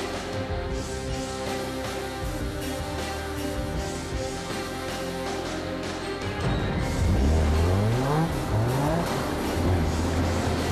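A lightweight 310-horsepower Caterham sports car accelerates hard, its engine roaring loud and close with rising revs through several gear changes, a raw, steady blare throughout.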